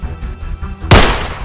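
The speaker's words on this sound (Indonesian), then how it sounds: "kok ada suara tembakan? Apa jangan-jangan ada pemburu yang udah mengarah ke sini?" A single loud, sharp gunshot blast rings out in an animated survival drama, cutting through a low rumbling background and trailing off briefly.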